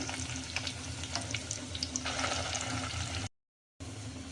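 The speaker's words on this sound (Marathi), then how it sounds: "या पद्धतीने कांदा लसूणचं वाटण तेलात परतून घेऊया" A ground onion-garlic paste sautés in hot oil with mustard seeds, giving a steady close sizzle with light stirring scrapes before a sudden brief silence near the end.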